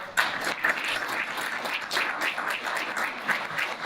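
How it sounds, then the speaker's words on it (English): Steady applause from a crowd, a dense patter of clapping that holds at an even level throughout. "let's also give a round of applause to our panelists here"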